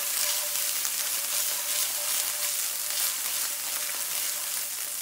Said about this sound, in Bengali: এবার দিয়ে দিচ্ছি আমি আদা বাটা। জাস্ট অল্প করে একটু ভেজে নেব